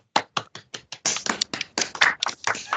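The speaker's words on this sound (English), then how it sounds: "Clap to everyone." A small group claps hands at a memorial gathering, starting with a few separate sharp claps and then building into irregular clustered clapping, close and fairly quiet.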